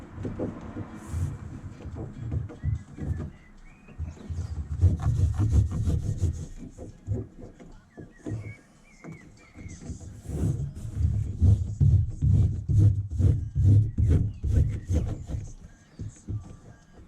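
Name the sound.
applying sound deadening inside a Panel Cruiser van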